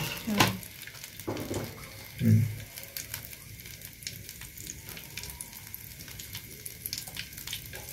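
Cumin seeds sizzling in a little hot oil, a steady close crackle with a few louder pops and bursts near the start.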